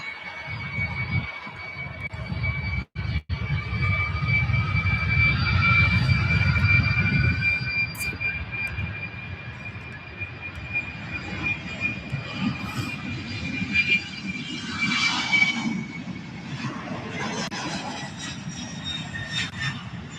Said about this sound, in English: And turning on the runway, we have UPS 767-300.